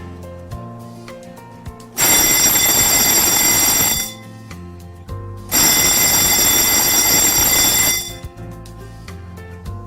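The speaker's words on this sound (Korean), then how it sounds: "회로 시험 스위치를 1개 회로씩 눌러서 화재 표시 등 주경종, 지구경종, 식약 경보기가 정상적으로 작동하는지를 확인합니다" Fire alarm bells clang during a circuit test of a fire alarm panel, two loud sustained bursts of about two seconds each, separated by a short pause over a quiet electronic hum.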